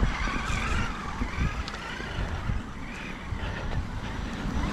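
A Traxxas E-Revo 2 RC car with softened suspension, HNR Mark 6S tires, Mamba Monster 2 speed controller and 14-tooth pinion drives steadily, giving a continuous loud whirring and scrubbing tire noise with no pauses.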